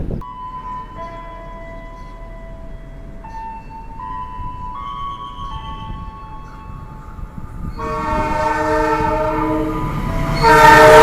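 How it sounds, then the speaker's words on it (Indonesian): An express train horn sounds in long sustained tones, followed by the rising roar of the Sembrani passenger train rushing past at full speed, loud and close. "kereta api Sembrani berjalan langsung nyusul kereta api Argo Merbabu tambahan dengan kecepatan maksimal"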